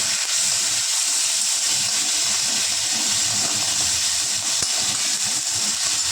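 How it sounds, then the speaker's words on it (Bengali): Mustard seeds and dried red chillies crackle in hot oil with curry leaves for a Bengali tempering, a dense, steady close-up sizzle and hiss that runs unbroken throughout with no voices. "এবার দেবো সর্ষে এবার দেবো শুকনো লঙ্কা ফোড়নে"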